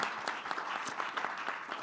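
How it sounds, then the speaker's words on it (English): A live audience applauds a guest at a business talk event, a brief, fairly quiet and distant burst of mixed hand claps and crowd noise lasting under two seconds. "Please give that guy a round of applause."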